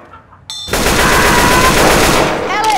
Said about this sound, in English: Fucking shooting at me!